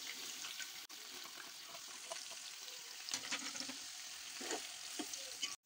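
Steady, crackling sizzle of onions frying in hot ghee for biryani, close and continuous, with a few louder spattering bursts partway through.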